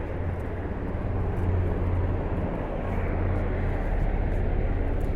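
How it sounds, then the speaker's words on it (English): A helicopter passes over a downtown street, a steady low rumble with a throbbing rotor beat that holds at a moderate distance throughout. "Here comes that helicopter again."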